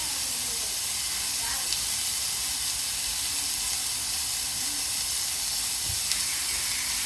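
Ground meat for chili sizzles in a pan, an even continuous hiss held at a steady level with no breaks, close and moderately loud.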